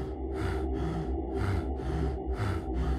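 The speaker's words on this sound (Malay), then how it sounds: "Hanya kedengaran nafasku yang tercungap-cungap." Heavy panting breath in a horror audiobook scene, rhythmic gasping inhales and exhales repeating about every half second, close and steady with no speech.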